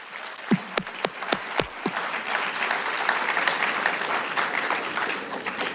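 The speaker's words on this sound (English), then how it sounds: "round of applause for them too." Steady applause from an audience at a high school sports awards ceremony honoring the juniors, opening with a few sharp, separate claps before swelling into a sustained, even round of clapping with no talk over it.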